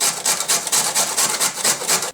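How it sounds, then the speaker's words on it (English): Carrots grated on a hand grater, quick rhythmic rasping strokes about four per second, close and loud, without any voices. "Then need to grate a couple of carrots."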